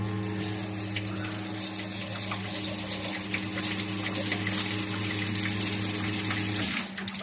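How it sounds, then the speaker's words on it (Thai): A coin-operated 3B coffee vending machine flushes water through its pipe, making a steady loud gush and pump hum that runs for several seconds before cutting off near the end. "กดสามครั้งก็จะล้างท่อที่สามนะครับ"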